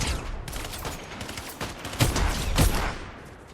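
Gunfire in Fortnite: several sharp shots burst out in quick succession, the strongest cracks near the end, over a steady background of in-game ambience.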